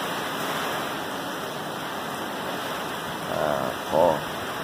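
Strong typhoon wind and rain during Typhoon Ulysses in Angeles City, a steady broadband roar of gusting air and rainfall that holds constant, with a couple of brief louder bumps near the end.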